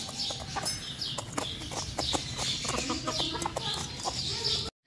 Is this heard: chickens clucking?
yes